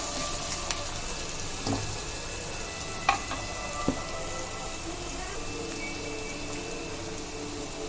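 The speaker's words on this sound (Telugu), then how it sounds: "1 మినిట్ అలా ఫ్రై చేసుకుందాం." Steady frying hiss from a pan of tomato egg curry as onions cook for about a minute, a continuous sizzle with a few faint clicks and taps of a spoon, no voices over it.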